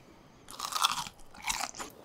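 Two loud, close crunches come from biting into a homemade Hot Cheetos cheese stick coated with Blue Takis, followed by brief chewing, with quiet pauses between.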